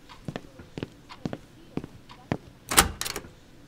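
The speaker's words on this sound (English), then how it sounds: "I gotta get the door." A door sound effect from a radio theater play opens with a string of light knocks and taps, then a louder thud and clatter as the door swings and bangs, fairly close.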